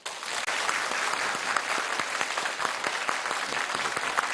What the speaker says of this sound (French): je vous demande d'accueillir avec votre applaudissement chaleureux nos 5 invités